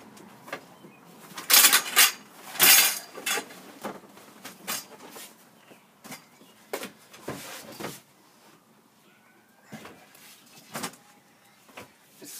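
Dishes and cutlery being handled in a trailer kitchen, with irregular close clacks, clinks and cupboard knocks that include a few louder rattling bursts and scattered lighter taps.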